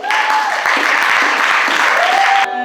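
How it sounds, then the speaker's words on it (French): A church congregation at an Assemblies of God service applauds loudly and steadily, a dense wash of clapping, with a sustained tone running beneath it, before ending abruptly. "Donne-nous les acclamations"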